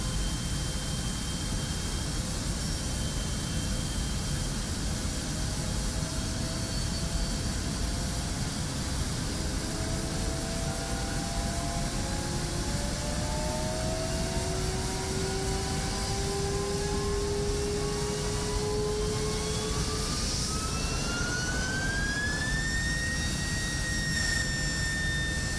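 A jet engine ignites as fuel injection starts, giving a steady loud broadband roar with rising whistling tones that climb in pitch as it spools up, with no talk.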